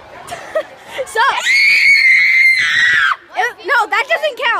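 People in a yelling contest let out a long, loud, piercing scream up close, surrounded by shouted bursts and laughing voices.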